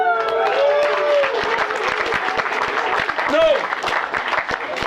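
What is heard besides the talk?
weak applause from audience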